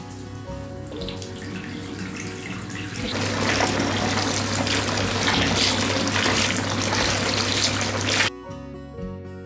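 Water gushes steadily from a tap into a filling tub, a continuous rushing splash that swells louder midway, then cuts off abruptly.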